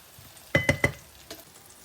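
Onion frying in a pan while being stirred, three quick clinking scrapes close together followed by a softer one, over a faint sizzle, with no talking.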